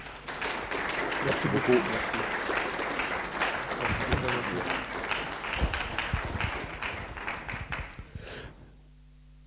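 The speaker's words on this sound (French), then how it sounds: "sous vos applaudissements" An audience at a civil engineering lecture applauds in a sustained burst of clapping that fades out near the end, while someone speaks briefly over it.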